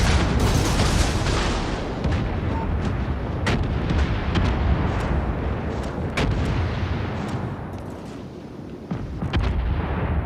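Tank cannon fire and explosions in a multiplayer video game, a continuous loud barrage of booming blasts and sharp cracks layered over a dense rumble, with no break across the whole stretch.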